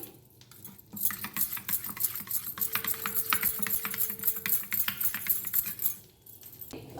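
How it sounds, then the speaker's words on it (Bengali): A spoon whisks a spice paste of dry red chilli powder in a bowl for a Bengali papad curry, rapid close scraping and clinking strokes that run steadily for several seconds, then stop. "সমস্ত জিনিস ভালো করে ফেটিয়ে নেবো আমি"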